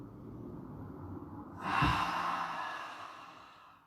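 During a yoga session, one deep breath draws in and then flows out as a long, breathy exhale, close and fairly loud over a faint room background.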